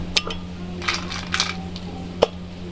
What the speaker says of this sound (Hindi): और जग को हम इसमें हम आइस क्यूब शामिल करेंगे।